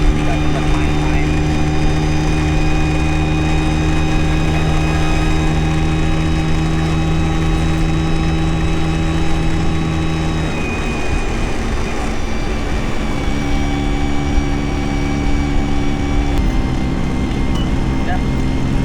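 Vespa scooter engine on a solo touring ride, running loud and steady with a constant drone that dips and shifts midway, suggesting uneven sputtering.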